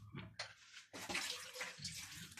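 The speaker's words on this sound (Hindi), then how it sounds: "ये दूध कॉफी में हम लोग दूध डाल रहे हैं" Milk poured into a cup of coffee at home, a soft close liquid splash and trickle in short bursts, then a fuller continuous pour.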